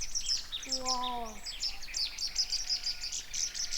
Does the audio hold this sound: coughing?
no